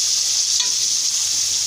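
Masala and peas stirring and frying in a pan for mixed vegetable pulao, a steady loud hiss of sizzling oil with one faint scrape of the spoon partway through, no voices.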